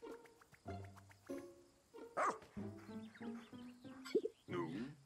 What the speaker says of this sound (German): Diese Kreatur sieht ja fast aus wie ein Hund.